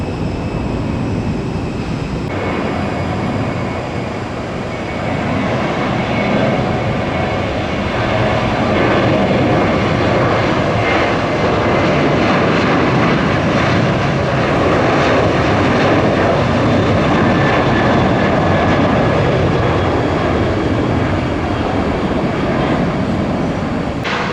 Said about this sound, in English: I'm going to bet that's the San Francisco flight arriving, the red eye.